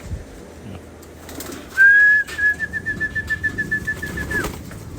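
Pigeons feeding in the late afternoon give a soft rhythmic cooing near the microphone, with a brief sustained whistle-like tone, light wing flaps and some faint background noise.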